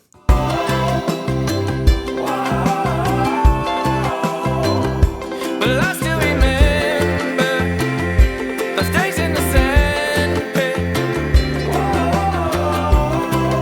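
A cheerful, relaxed band track plays continuously and loudly, with bass, drums, ukulele and vocals blended into a full, steady mix.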